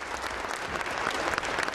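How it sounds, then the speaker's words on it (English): A crowd applauds a newly sworn-in governor in a standing ovation at the Alaska inauguration ceremony in Kotzebue, a dense, steady wash of clapping that holds at full strength throughout without a break. "The crowd, glued to a live stream, cheered as the First Lady made her way to the stage and gave the new governor a standing ovation"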